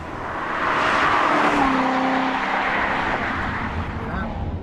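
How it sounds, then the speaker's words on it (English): A 2014 Chevrolet Corvette Stingray Z51 with its V8 pushrod engine sounds as a loud, sustained roar that holds steady as the car drives, with a rising tone in the middle and a slow fade at the end. "This is the ultimate push rod engine."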